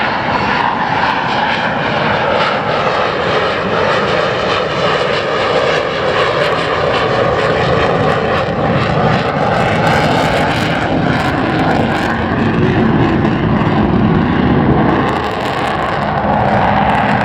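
Avro Vulcan XH558 delta-wing bomber roars overhead, its jet engines producing a loud, continuous thundering rumble that holds steady for the whole stretch with no voices.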